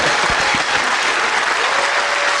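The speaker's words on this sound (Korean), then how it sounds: "차기 대통령 후보 안희정 지사 박수 주시고요." A political event audience claps steadily for Governor Ahn Hee-jung, a dense wash of applause from a crowd, loud and sustained without pause.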